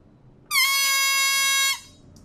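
A sampled fog horn made from a balloon gives one loud, sustained, rich-toned blast of just over a second that cuts off cleanly, with no other sound around it.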